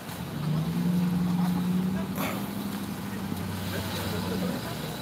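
Cars roll past on a busy road in Rosarito heading toward the restaurants, a steady engine rumble with one vehicle's low drone swelling and fading nearby, under a continuous traffic hiss.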